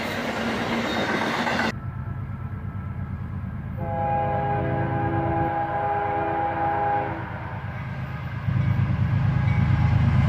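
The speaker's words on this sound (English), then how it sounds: "An ET44AH leads this intermodal, followed by a Dash 8." An intermodal freight train led by an ET44AH locomotive with a Dash 8 trailing rumbles past close by, with a steady roar of wheels and engines, a sustained horn blast midway and louder rolling noise toward the end.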